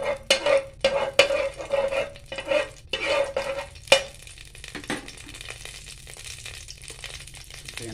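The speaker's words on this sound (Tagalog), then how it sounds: "Gisahin muna natin ating mga ingredients" Garlic being sautéed in a tablespoon of oil for ginataang tuna with coconut milk, with a metal utensil clacking and scraping against the pan in quick bursts, then a softer, steady sizzle once the stirring stops.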